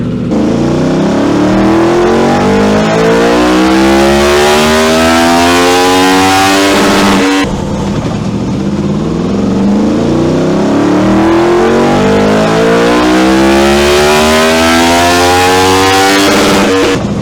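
A 2017 Yamaha FZ10 motorcycle engine runs steadily on a dyno, a loud continuous idle-to-rev drone with rising and falling harmonic sweeps, briefly dipping around the midpoint before climbing again.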